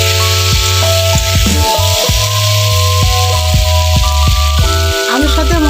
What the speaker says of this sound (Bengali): বন্ধুরা, আমি কিছুক্ষণের জন্য ভেজে কষিয়ে নিয়েছি মশলার সাথে